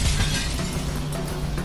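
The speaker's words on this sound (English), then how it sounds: "He fell like 40 feet through, I don't know how much fucking plate glass" Plate glass shatters in the Minority Report video game as a man falls through it, a loud, dense crash of breaking glass sustained throughout with no pause.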